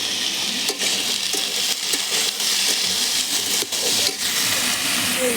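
Food frying in a pan on a home cooking fire, a steady, close, bright sizzle with a few brief dips and small clinks across the few seconds.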